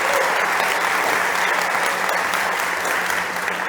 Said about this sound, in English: Big applause to John.